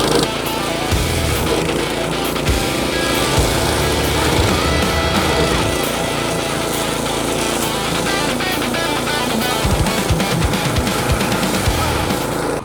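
A 7.5-horsepower self-propelled grass cutter runs loud and close after starting, its engine droning steadily and cutting through tall weeds, with rough low rumbling and rattling throughout.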